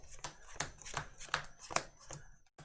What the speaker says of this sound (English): I just want to shuffle my deck, actually